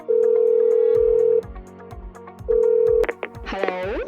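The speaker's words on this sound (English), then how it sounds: "let's pick up the first phone call." An incoming phone call sounds as two long, loud ringing tones separated by a pause, with soft rhythmic clicks beneath, followed by a brief bright electronic flourish.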